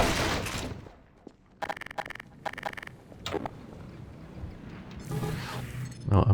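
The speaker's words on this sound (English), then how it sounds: "Alright, pulse rifle." Pulse rifle fire in Half-Life 2: Lost Coast, with two rapid bursts of crackling automatic shots in the middle of the clip and a lone sharp report after them, set among ambient game noise.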